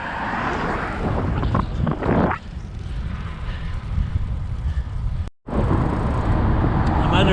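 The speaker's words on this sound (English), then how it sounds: "The wind is pretty strong." Strong wind buffets a car on a highway, a loud steady broadband roar with gusting surges and a brief dropout near the end.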